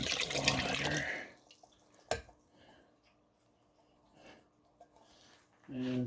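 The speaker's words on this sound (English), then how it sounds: "fill up a couple cans of water" Tap water gushes loudly into cans for a chili cooked in an Emeril Lagasse pressure air fryer, running for about a second before fading to faint drips and clinks, with a brief thump midway and a second burst of pouring at the end.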